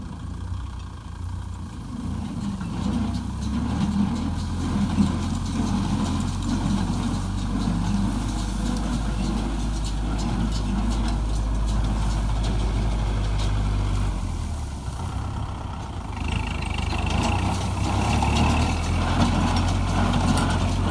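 A hay baler truck's engine runs steadily throughout, a loud, close, deep idling rumble with a slight shift in tone partway through and no talk.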